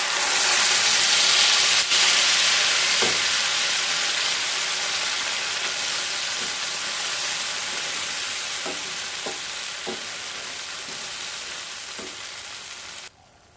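Ground spice paste for a vegetarian paneer curry hits hot oil with a loud, bright sizzle that slowly fades, punctuated by occasional light taps of stirring before cutting off abruptly.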